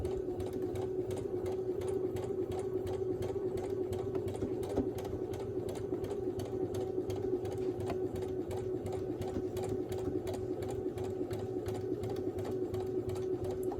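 A sewing machine runs steadily at medium speed, stitching a quarter-inch seam across small postage-stamp quilt patches, a continuous close motor hum with rapid needle ticking and no talking.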